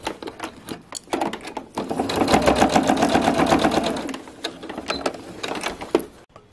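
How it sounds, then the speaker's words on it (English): A sewing machine basting a bag handle at a quarter inch seam allowance, starting with a few short stitch bursts, then running steadily for about two seconds before slowing into stops and starts, close and clear. "we're going to baste at a quarter inch seam allowance the handle on"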